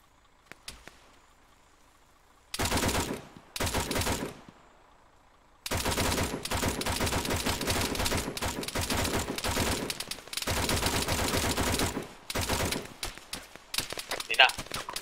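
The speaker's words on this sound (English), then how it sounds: "MG tu tembak jauh tu" Machine gun fire in the military shooter Arma 3, several loud sustained bursts separated by short quiet gaps, the last burst ragged and breaking up.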